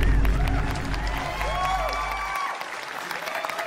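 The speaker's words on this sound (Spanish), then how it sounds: "Fuerte aplauso para nuestros queridísimos participantes de la temporada del Gran Chef Famosos por dos." Studio audience on a celebrity cooking competition show applauds the contestants, dense sustained clapping and cheering from a crowd, loud and continuous throughout with a faint melodic tone running underneath.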